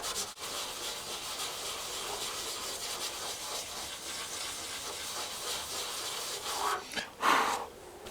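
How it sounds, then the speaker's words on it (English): Abrasive pad rubbed lightly over peeling clear coat on a car bonnet, a continuous close hissing scrub that holds steady, then a few louder swipes near the end. "I'm going to rub this very lightly over there to try and get rid of it. Not pressing too hard."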